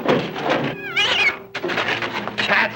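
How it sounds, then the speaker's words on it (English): Several cats meow loudly and close by, one long drawn-out yowl in the middle, with a brief pause before more meowing follows. "Cats again."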